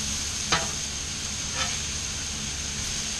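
Salmon fish sizzles in a hot pan with a steady, close crackling hiss throughout, broken by two brief sharper spits or scrapes.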